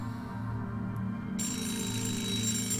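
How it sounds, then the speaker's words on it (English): A red public telephone rings on the first floor of a building in a visual novel game, a steady electronic ringing tone that is loud and continuous, alone without voices. "A red public telephone on the first floor was ringing."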